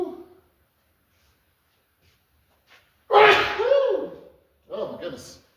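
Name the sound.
sneeze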